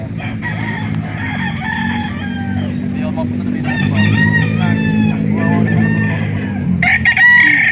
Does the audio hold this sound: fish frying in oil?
no